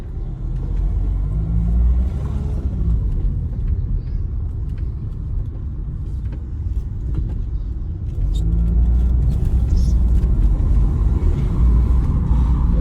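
A Renault Clio 4 with a 1.5 dCi diesel engine and EDC automatic gearbox drives on the road, its low rumble and steady road noise continuous throughout, growing slightly louder near the end.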